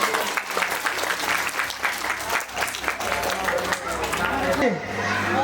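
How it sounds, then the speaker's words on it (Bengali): Sustained crowd clapping at a primary school's annual cultural festival, filling the space evenly with some chatter and an amplified speaking voice over it, tailing off near the end. "জোরে জোরে হবে, করতালি জোরে"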